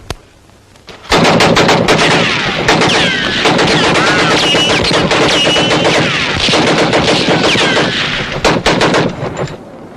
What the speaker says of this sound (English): Now let the gun speak.